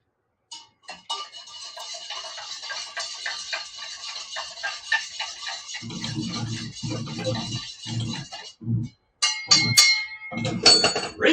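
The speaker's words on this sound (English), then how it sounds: "There's a bell to ring." A bell rings in bright sustained metallic tones, struck several times in a row, with voices chatting over it.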